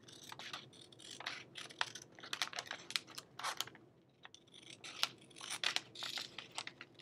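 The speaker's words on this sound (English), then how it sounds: "I'm gonna trim this out. Again, I just have my little baby scissors here." Small scissors snip and trim freezer paper for a quilt block, a close, quiet run of quick crisp cuts and rustles with short pauses, no talking.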